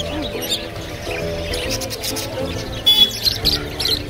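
Caged birds at the Galiff Street pet market in Kolkata chirp and tweet in quick, overlapping bursts, with a busy background murmur and a few sharper calls standing out.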